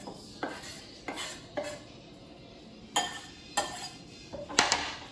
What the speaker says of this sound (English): Put that and transfer it over to our bowl.